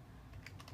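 Quiet computer keyboard typing as a password is entered, a few light key clicks tapping out over a faint hum, no voices.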